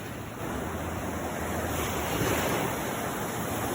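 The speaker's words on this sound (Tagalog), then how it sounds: "Taas ng mga alon dito" Ocean surf roars steadily with high waves crashing and washing in under buffeting wind noise, loud and continuous.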